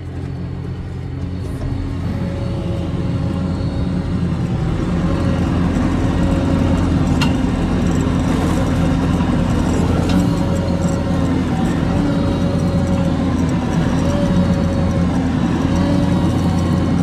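Muddy farm tractor engine running steadily, a loud continuous low rumble with an even idle-like drone throughout, no talk over it.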